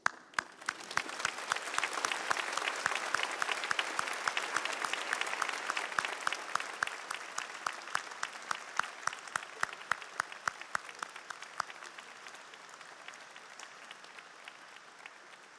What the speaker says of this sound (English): give a round of applause for your friends and loved ones